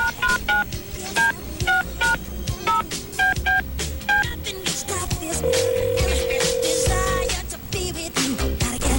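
A telephone keypad dials a number by hand, its DTMF tones beeping in short, uneven bursts, followed by a steady ringback tone. The tones are loud and close, with no one talking.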